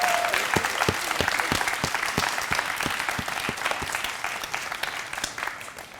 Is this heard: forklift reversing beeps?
no